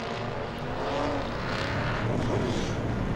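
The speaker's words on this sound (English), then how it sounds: "They're trying to get it push started." A late model race car at Langley Speedway being push started to refire, giving a loud, steady, broadband engine roar throughout with no clear breaks.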